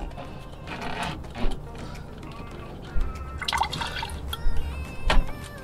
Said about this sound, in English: antifreeze to leak down here